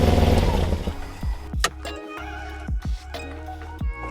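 Rough, loud car engine idling unevenly during a restoration project, chugging and sputtering with sharp bursts before it shuts off and settles into uneven knocking.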